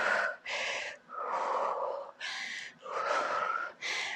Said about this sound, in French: Soufflez bien.